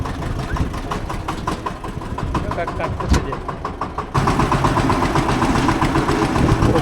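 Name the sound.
tractor engine running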